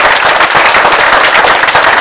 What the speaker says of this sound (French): Je pense que vous pouvez encore l'applaudir.